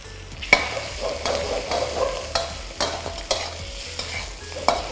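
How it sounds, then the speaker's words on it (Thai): Steady scraping and stirring of rice and fermented pork sausage in a hot wok with a soft sizzle underneath, a spatula clinking against the metal at irregular intervals. "ใส่แหนมลงไปผัด"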